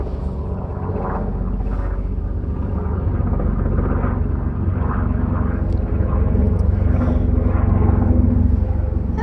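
A helicopter passes overhead with a steady, loud rumbling roar that swells slightly toward the end, heard alone without talk.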